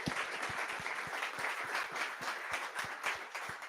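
Applause from a small meetup audience at a microservices community event, with distinct individual hand claps standing out from a steady, moderately close patter.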